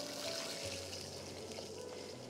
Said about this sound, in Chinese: 料炒好了，我们现在倒水。